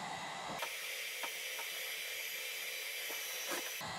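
A Wagner heat gun blowing hot air onto a Pelican Trek 60 kayak runner part, switching on to a steady, close, even hiss that holds for several seconds before cutting off.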